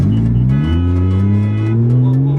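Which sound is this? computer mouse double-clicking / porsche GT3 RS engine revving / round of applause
porsche GT3 RS engine revving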